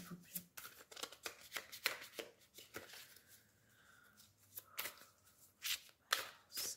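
A tarot deck is cut and shuffled by hand, a series of quick papery riffles and slaps, close but quiet, with a few short pauses between bursts.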